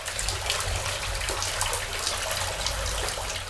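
Floodwater from an overflowing sewage-filled stream rushes and gushes without pause, a loud, steady outdoor water noise with no voices over it.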